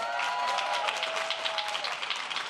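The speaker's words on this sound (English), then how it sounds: "Give her a big round of applause." Crowd at a town hall with President Obama applauding a congresswoman, a dense, steady wash of clapping and cheering that fills the whole stretch at an even level.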